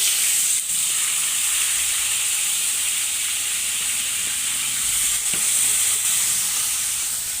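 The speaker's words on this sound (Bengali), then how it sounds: "এখানে আমি পেঁয়াজ দিলাম তেলে।" Onions sizzling in hot oil in a pan, a steady broadband frying hiss running evenly throughout with a faint clink or two, no voices.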